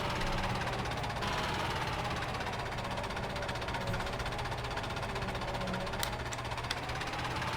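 Farming Simulator 17 tractor with a mixer attached, engine labouring under heavy load in a steady continuous drone with knocking texture, loud and close, no talk over it.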